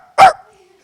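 A person imitates a single sharp, high-pitched yap of a small dog, loud and close, followed by quiet.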